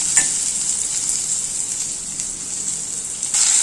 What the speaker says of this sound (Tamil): சவுச்சவு நல்லா வதங்கட்டும்.